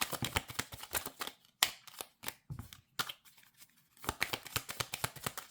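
Tarot cards drawn and laid out one by one on a table, a quick run of crisp flicks and slaps in short bursts separated by brief pauses, close and fairly quiet.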